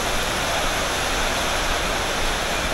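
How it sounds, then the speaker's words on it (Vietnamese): Torrential rain in Nha Trang makes a constant broadband hiss, like rushing water, loud and unbroken throughout, with no talking. "Hôm nay là phải nói là mưa cực kỳ, mưa to."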